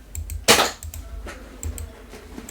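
A toy gun fired at close range gives one sharp, loud snap, followed by a few fainter clicks and light taps in a quiet room with no talk.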